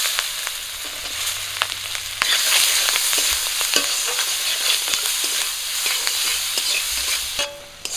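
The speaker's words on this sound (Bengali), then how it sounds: "ডিম ভাজা তেলেই আমি দিয়ে দিচ্ছি পেঁয়াজ কুচি আর কাঁচা লঙ্কা চেরা।" Chopped onion and slit green chillies sizzle in oil left from frying duck eggs. A loud, close crackle jumps when they go in, then keeps hissing steadily under scraping stirs.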